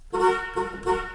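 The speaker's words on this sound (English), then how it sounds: "Horn works." A 1957 Pontiac Star Chief's horn sounds three short, close, loud honks in quick succession, a rich harmonic blare with brief gaps.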